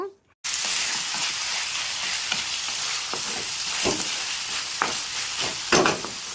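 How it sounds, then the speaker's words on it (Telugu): Boiled meat pieces, for a chicken dish, stirred and frying in a pan: a loud, steady sizzle broken by repeated scrapes and clacks of the spoon, close up, with no talking. "వేసిన ముక్కలన్నీ బాగా కండకు పట్టేటట్టు బాగా మిక్స్ చేసుకున్నాను."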